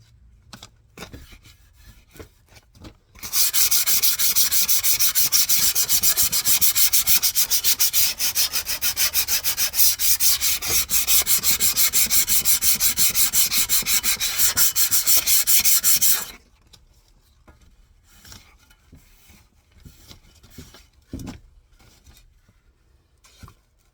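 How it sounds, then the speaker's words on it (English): 220-grit sandpaper rubs steadily on a rusty old shovel, making a loud, continuous scratchy hiss for about thirteen seconds. Quieter handling noises come before and after. "I'm gonna keep continuing with my sanding."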